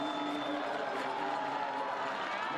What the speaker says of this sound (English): The crowd in the finish area going mad for him.